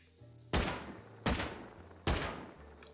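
Three loud gunshots ring out at even intervals in the Rust video game, each a sharp close blast with a short decaying tail.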